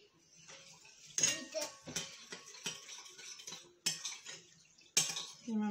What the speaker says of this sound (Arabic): خلطهم مليح.